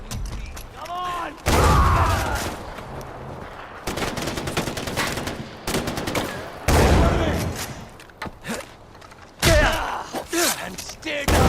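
Rifle gunfire in the video game Far Cry 4, loud bursts of rapid shots repeating in several volleys across the span, mixed with game effects and occasional talk.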